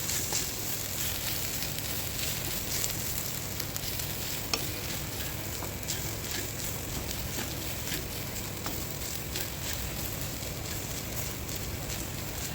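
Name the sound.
grated fresh coconut being stir-fried in a pan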